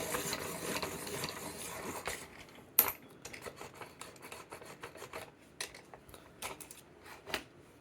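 A Dahle 166 pencil sharpener grinding a pencil to a full tip, heard as dense rasping that gives way to a series of shorter scraping strokes and light clicks, fairly close and fairly quiet, with no speech.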